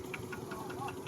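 Tractor engine running while rice is unloaded on a farm, heard as a faint, steady mid-low chugging hum with a constant tonal drone and light irregular knocks.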